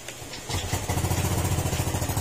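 A rusty Yamaha Aerox 155 scooter engine catches and settles into a steady, close, puttering idle with a regular low pulse, the exhaust sounding rough.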